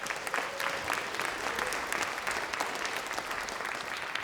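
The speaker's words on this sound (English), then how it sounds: "Let's give them a big round of applause." An audience at a wearable art show in Ketchikan applauds steadily, a dense, even wash of many hands clapping heard from a moderate distance for several seconds.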